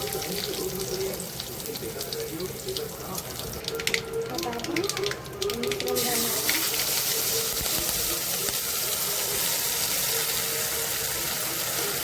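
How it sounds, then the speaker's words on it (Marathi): Water poured into buttermilk kadhi in a cooking pot with mustard seeds and cumin: a steady splashing stream that turns fuller and brighter about halfway through, with a faint sizzle underneath. "पाणी पण घालायचं आहे।"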